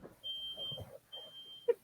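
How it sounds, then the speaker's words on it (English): A home fire alarm sounds two long steady electronic beeps, fairly faint and in the background, followed by a couple of short sharp clicks. "My fire alarm's going off now."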